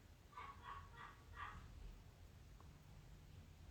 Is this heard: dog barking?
yes